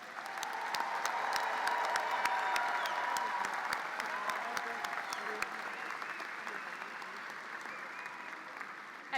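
A large commencement audience applauds master's degree recipients at a university graduate school ceremony, with dense clapping, scattered sharp claps and crowd murmur gradually fading over several seconds.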